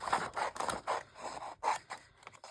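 Scissors trim paper packaging for a journal gatefold, a quick run of crisp, rhythmic snips close by, about six or seven cuts with short pauses, no speech.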